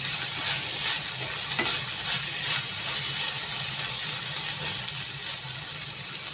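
Avarekalu (hyacinth bean) curry is stirred in a hot pan, a steady bright sizzle and hiss running throughout with soft scraping strokes of the spoon, fairly close and continuous, no voices.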